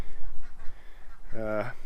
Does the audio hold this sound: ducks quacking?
yes